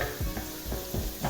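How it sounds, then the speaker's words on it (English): Chopped onions sizzle softly in a pan as they are stirred, with short scraping sweeps over a quiet, steady frying hiss. "chopped onions, and we're just going to stir that around for a little bit"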